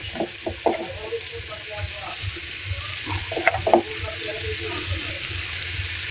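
A spice mixture frying in a pan for spiced shing fish, a steady close sizzle with clusters of scraping stirring strokes and a brief louder clatter midway, no one speaking.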